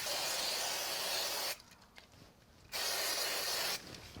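Two loud, continuous hisses from a spray glue can aimed at a card, the first about a second and a half long, then a brief pause before a second burst of similar length, close and dominant.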